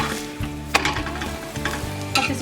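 Makki ki roti with methi cooks in ghee on a griddle over medium heat, a loud close sizzle with spatula scrapes and pats as it is pressed and turned.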